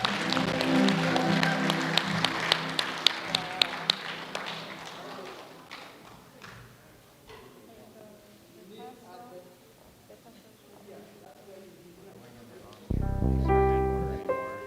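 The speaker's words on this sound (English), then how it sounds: "Let's clap for her." A graduation ceremony audience at a theological seminary bursts into clapping, brisk and scattered at first, then thinning out. Music and people talking carry on beneath and after it.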